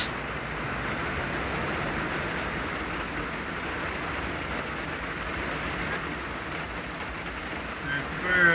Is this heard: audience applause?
no